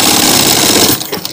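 A sewing machine stitches the waistband of a gents' pant, giving a loud, steady, rapid mechanical chatter that runs for about a second and then stops abruptly.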